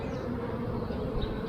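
Honey bees buzzing densely around a beekeeper at an open hive, a close, continuous, even drone with no voices.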